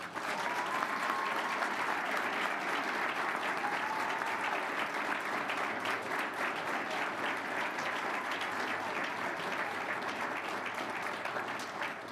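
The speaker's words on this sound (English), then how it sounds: "please give a big round of applause to our President's Award recipient" A school board meeting audience gives a big, steady round of applause for a high school President's Award recipient, dense clapping that holds at full strength throughout without any talk.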